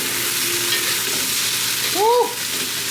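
Kimchi fried rice stir-fried in a wok with a metal spatula, a steady close sizzle with a quick scraping stroke of the spatula near the end.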